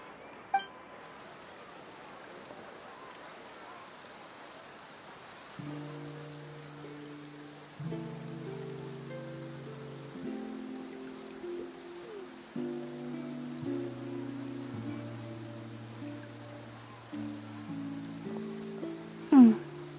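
Steady soft rain patter with scattered drips in the video game Genshin Impact, while a gentle melodic tune of sustained tones plays underneath from about a third of the way in.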